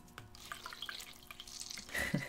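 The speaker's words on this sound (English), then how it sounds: "let me just wet my beauty blenders" Tap water running briefly in a garage to wet beauty blender makeup sponges, a soft close trickle and splash ending in a few drips.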